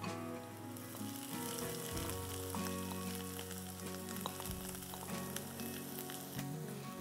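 Bamboo shoots fry with garlic in a hot pan, producing a loud, continuous sizzle with crackling spits and occasional stirring clatter.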